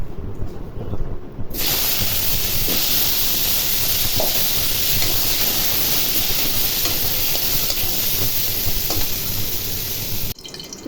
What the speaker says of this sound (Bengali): আলুগুলি আমি লবণ মেখে রেখেছি, এখন তেলে ভাজবো।